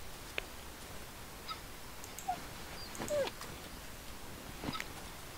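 A dog in the video game Darkwood whimpers and yips in a few short, faint cries scattered over a low background hiss.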